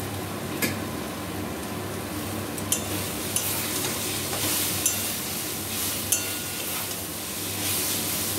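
Pointed gourd peel ghonto ingredients stirred and fried together in a pan over raised heat, a steady sizzle with a soft background hum and periodic scraping clinks of the spatula against the pan.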